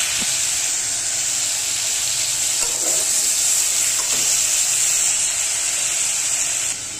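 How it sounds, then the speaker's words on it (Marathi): Onion frying in a pan gives a loud, steady sizzle and hiss, with a few faint clicks of stirring. "थोडासा कांदा पण टाकते वरनं. ते पण त्याच्यामध्ये फ्राय होऊन जाईल."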